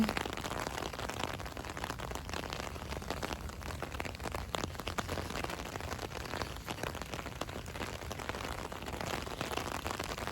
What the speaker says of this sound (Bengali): বৃষ্টিতে আমার ছাতার উপরে বৃষ্টি পড়তেছিল সেই সাউন্ডটা খুব মনোযোগ দিয়ে শুনতেছিলাম